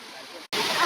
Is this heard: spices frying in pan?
no